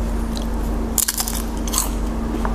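A bite into a crispy fried wonton with a thin skin: a sharp crunch near the mouth, then a second fainter crackle, over a low steady hum in a noodle shop.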